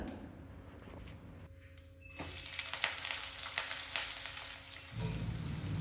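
Sliced onion and curry leaves sauté in a pan with mustard seeds and asafoetida. A quiet hiss swells into a fuller sizzle with crackles and stirring scrapes, then settles.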